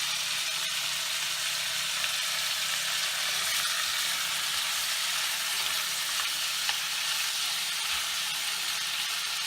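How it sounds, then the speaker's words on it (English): Meat searing in a hot pan with ginger, scallion and a splash of cooking wine, a continuous loud hiss and sizzle with faint stirring, no voices. "So while it's searing right now with the ginger and the scallion"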